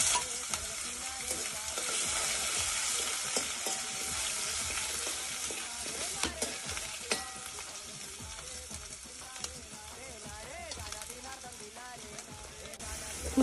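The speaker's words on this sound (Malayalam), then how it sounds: "കടുക് പൊട്ടി കഴിയുമ്പോൾ ഇഞ്ചിയും വെളുത്തുള്ളിയും ചതച്ച് വെച്ചിരിക്കണം" Mustard seeds with crushed ginger and garlic frying in hot oil for a Kerala pork roast, a continuous loud sizzle with popping crackles and occasional stirring scrapes throughout.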